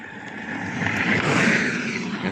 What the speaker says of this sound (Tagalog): Sa gilid kasi ako ng highway kaya maingay.